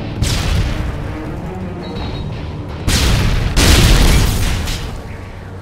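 Grenade explosions in a search-and-destroy round of an online shooter game on a submarine base map, two heavy booming blasts in quick succession over a continuous rumble, loud and close.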